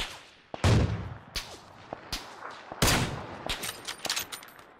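Gunfire in PUBG on the Erangel map: a rapid string of sharp, loud shots and bursts, some close and cracking, others echoing from buildings below, with no talk over them.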